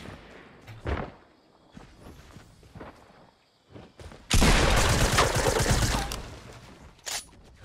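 Fortnite gunfire: scattered thuds and single shots early on, then a loud, dense burst of rapid automatic fire lasting about two seconds, followed by one more short shot near the end.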